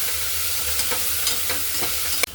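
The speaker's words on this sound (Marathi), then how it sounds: "आता याच्यामध्ये टोमॅटो घालू. टोमॅटो 1 मिनिटभर परतून घेऊ." Tomato sautéing with golden fried onion in a pan, a steady close sizzle with a few brief scraping stirs and a sharp clack near the end.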